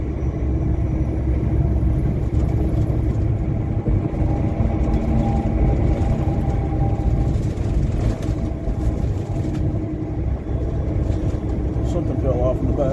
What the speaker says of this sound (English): Gonna get photobombed by a little short, straight box truck coming up on our left here.